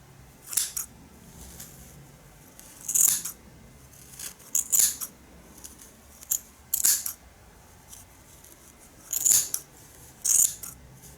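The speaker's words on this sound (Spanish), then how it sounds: "con una tijera van a cortar esta parte de acá." Scissors snip through knitted yarn while trimming a baby's hat, sharp close cuts arriving in about seven separate bursts with quiet pauses between, no voices.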